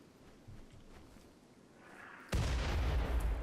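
RimWorld Alpha 13 gunfire rakes the power lines during a bombardment, with a loud, sustained burst of shooting that erupts abruptly from a low background and continues to the end.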